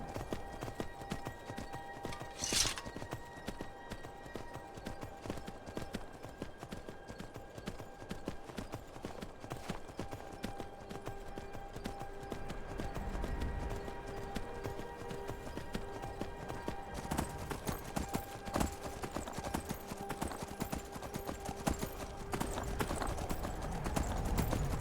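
Horse hooves pounding in a rapid, steady clip-clop while riding in Skyrim, continuous throughout with a brief whinny early on and faint game ambience underneath.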